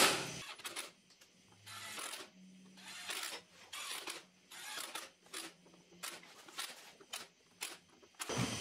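Bolts tightened on a Dana 60 axle hub: a series of short, ratcheting mechanical bursts of clicking, close up and repeated in quick spurts with brief pauses between.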